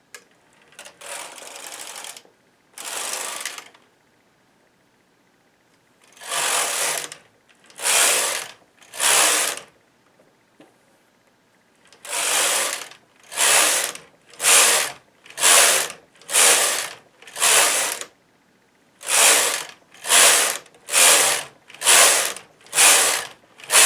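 Domestic knitting machine carriage pushed back and forth across the needle bed while knitting green yarn, a series of loud, clattering mechanical passes, each a second or so long, separated by short pauses and speeding up into a steady rhythm.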